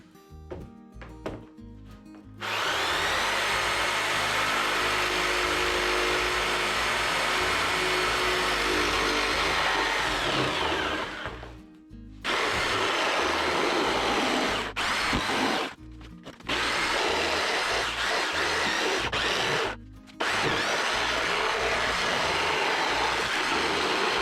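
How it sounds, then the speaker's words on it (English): A power jigsaw cutting a recess for a soffit vent in wood trim, running loud and close with a harsh buzzing rasp that continues for long stretches and stops briefly several times. "So let me get my jigsaw, we'll cut that out."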